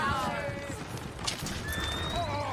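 Horses whinny and neigh loudly in Red Dead Redemption 2, with hooves clip-clopping beneath and a man's brief exclamation at the start.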